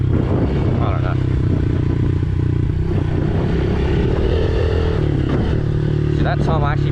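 A Chinese 50cc race motorcycle buzzes along under a rider, its small engine holding a steady, loud drone with some clatter and wind noise close by.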